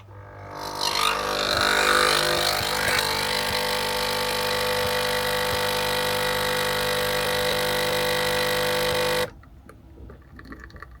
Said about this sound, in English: It's got to run the coffee machine.